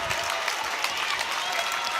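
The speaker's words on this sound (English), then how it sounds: "DeVito, the seniors, getting the Shelby crowd up off their feet" A high school basketball crowd at a district semifinal cheers and claps in a dense, sustained roar filling the gym, steady and loud with no break throughout.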